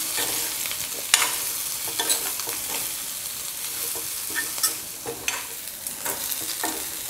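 Potatoes with salt and chilli powder sautéed in a pan, loud continuous sizzling and frying with repeated scraping stirs of a spatula close by.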